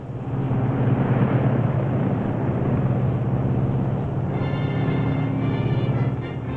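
A Lockheed L-1049 Super Constellation piston airliner cruises on two engines, a steady, loud, low propeller drone with a broad rumbling roar that stays even throughout, no voices.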